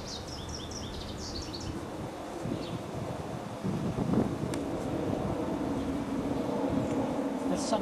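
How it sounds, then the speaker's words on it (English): Steady wind blows over a group of monarch butterflies, a low continuous rushing that grows a little stronger midway, with faint bird chirps at the start. "Now, we let wind get in there."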